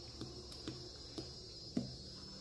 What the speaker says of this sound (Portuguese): Olha a cantoria das cigarras.